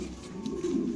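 An Indonesian pigeon gives a soft, low, throaty coo, brief and fairly faint, close by with light background noise.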